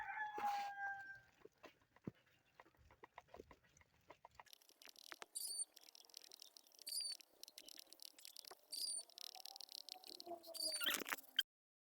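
A backyard flock of chickens with young chicks clucks and chirps close by in scattered bursts. A rooster crows, and the crowing rises toward the end, with pecking and patter sounds underneath and nobody talking.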